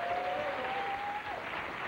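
Studio audience applauding on a daytime talk show, a dense steady wash of clapping at moderate level that holds for the whole stretch, with a thin tonal whine running beneath it.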